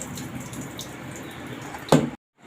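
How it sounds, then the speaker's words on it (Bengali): Water being drained off a washed banana flower soaked in turmeric and salt water, a soft ongoing trickle with a louder splash near the end, followed by quiet. "জলগুলো বের করে দিচ্ছি।"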